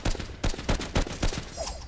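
Infantry Rifle shots in Fortnite, a steady series of about seven loud, evenly spaced single rounds fired one after another, with no talking.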